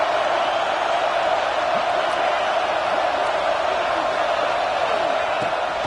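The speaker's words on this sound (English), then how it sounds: "This crowd, full throat, spreading the eardrums and letting them know it's going to be a long day." A dense stadium crowd in the NCAA 26 college football video game roars in a steady, loud, unbroken wash of cheering throughout.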